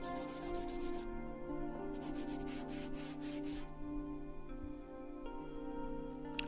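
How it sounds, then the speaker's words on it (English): Rough, steady rubbing of coarse 80 grit sandpaper on wood, with repeated back-and-forth scraping strokes, close and continuous throughout. "I'm going to give it a quick sanding over with some rough"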